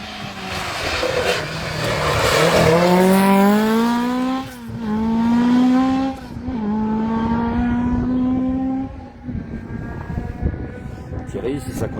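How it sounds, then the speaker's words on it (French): A historic VH-category rally car roars past on a special stage at the Neufchâtel-en-Bray rally, its engine climbing loudly through gear changes before fading into the distance. "Troisième voiture qui passe."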